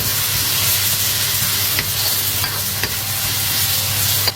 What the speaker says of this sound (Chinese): 翻炒2下